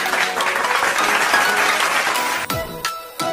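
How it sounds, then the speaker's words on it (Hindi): Children clap together during a Hindi alphabet rhyme, giving a dense burst of applause that carries on steadily for most of the clip before breaking off near the end. "बच्चों बजाओ ताली"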